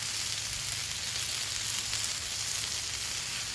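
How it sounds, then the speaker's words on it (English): Pork chops seasoned with gator shake laid on a grill, giving a loud, continuous broadband sizzle that holds steady for the whole stretch with no talking. "Let's throw a couple pork chops on here."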